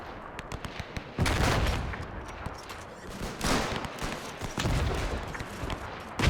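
Heavy, sustained gunfire from the WWI video game Between Empires, played as the German Empire during a gas-filled trench fight: dense rifle and machine-gun volleys crackle loudly and continuously, swelling in bursts, with no talk.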